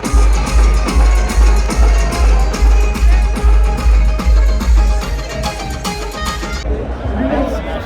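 Dense crowd chatter and babble at a Shivjayanti celebration in Nashik, with a steady low rhythmic drumbeat pulsing beneath the hubbub throughout, the drumming dropping out near the end while the crowd noise carries on.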